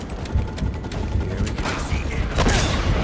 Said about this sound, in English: That boy shot me point blank range.